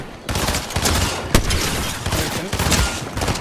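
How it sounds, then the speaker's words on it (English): Dense, continuous video-game gunfire from a shooter match, with overlapping bursts and sharp reports filling the whole stretch, one especially strong crack near the middle, loud and up close. "Why are you still shooting?"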